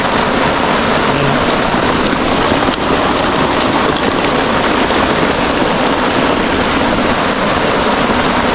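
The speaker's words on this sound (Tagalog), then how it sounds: "Lakas po ng ulan." Heavy rain pours down steadily in a forest during a fishing outing, a loud, dense, unbroken hiss of drops on surfaces with no pauses and no talking.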